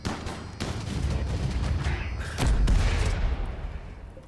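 Big explosion during a RimWorld video game battle, a dense rumbling blast with sharp cracking hits and a heavier boom swelling partway through, loud and continuous.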